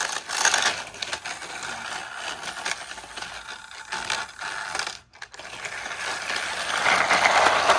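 A motorized Thomas and Friends Gordon toy engine runs with a steady mechanical whir and rattling clatter throughout, briefly cutting out partway before picking up again louder near the end, with no talking.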